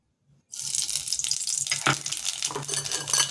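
Black cumin seeds tipped into hot oil in a pan for an eggplant dish, bursting into a sudden loud sizzle that carries on as a steady crackling fry after a quiet start.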